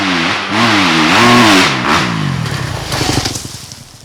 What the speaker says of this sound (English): I'm going to take the YZ for its first ride, or my first time on it.